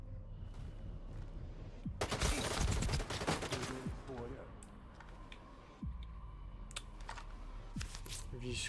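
Bursts of gunfire in S.T.A.L.K.E.R. 2 crackle in short volleys amid ambient game sounds, with a person talking intermittently.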